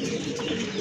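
A large pigeon at a market stall gives a low, throaty coo, brief and close over a busy background murmur.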